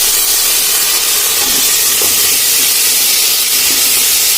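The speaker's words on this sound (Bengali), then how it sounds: "এবারে আদা রসুন বাটাটা ফেলে দিতে হবে।" Ginger garlic paste hits hot oil with a loud, continuous sizzling hiss for biryani, heard close and steady throughout.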